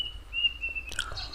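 Small birds chirp near a striped rat snake outdoors, with a thin sustained whistle-like call followed by quick faint chirps over low background noise.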